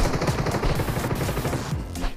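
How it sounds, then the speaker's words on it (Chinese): Rapid bursts of automatic gunfire from the video game Peacekeeper Elite crackle loudly and continuously, with dense overlapping shots in a zombie mutation team match. "这枪声这么大"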